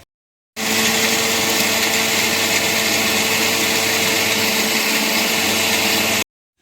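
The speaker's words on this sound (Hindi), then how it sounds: "ये हमने 1 प्याली ले लिया, इसे हम अब करेंगे ग्राइंड।" Electric kitchen grinder running on white chickpeas for Lahori khoye wale chanay, a loud steady whirring drone with a grainy rattle that starts abruptly, holds for about six seconds and cuts off.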